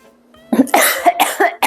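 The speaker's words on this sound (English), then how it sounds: "sorry, the ginger always makes me cough, always." After a sip of ginger beer, a person gives a burst of several harsh coughs in quick succession, close and loud, following a brief quiet moment.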